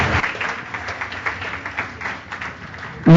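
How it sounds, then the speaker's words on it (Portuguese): Welcoming applause from the audience at a Latin American and Caribbean theology and spirituality congress, steady dense clapping for about three seconds, cut off by a loud voice at the very end. "le damos un aplauso de bienvenida a Lucia Pedrosa Padua"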